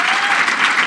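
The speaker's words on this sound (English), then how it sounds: "Can we have one more round of applause for Tyron," Brief, loud, dense clapping from an audience at the 2022 Bravo! Awards, a steady burst of applause filling the whole moment.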